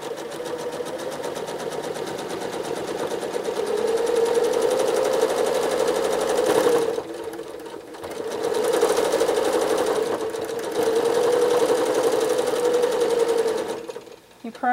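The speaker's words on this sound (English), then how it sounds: "probably heard my machine making a lot of loud noises in this spot" A sewing machine free-motion quilting a paisley pattern over thick seam allowances, running loud and close with a steady mechanical hum and rapid needle rhythm, pausing briefly twice before resuming.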